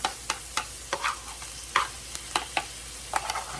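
Corn kernels searing in a hot pan for Southwest egg rolls, stirred with a utensil: a steady sizzle broken by repeated scraping strokes at an irregular rhythm, close and moderately loud, with no talking.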